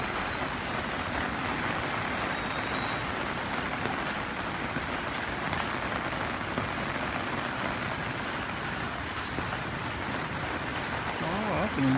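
Dense, steady tropical-depression rainfall hisses continuously, a heavy downpour pattering on surfaces with no break, amid week-long rain and knee-deep flooding.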